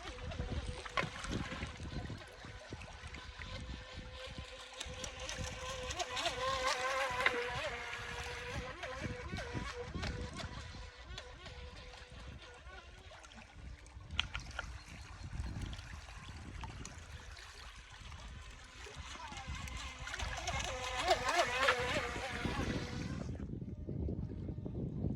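A small radio-controlled speedboat's engine whines steadily over choppy water for most of the span, with splashing and wind, then cuts off near the end.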